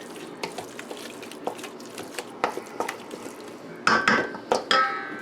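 Ground meatball mixture seasoned with pepper is stirred in a bowl, giving soft squishy, wet mixing sounds and scattered light clinks. A few louder knocks of the utensil against the bowl come near the end, and no one speaks.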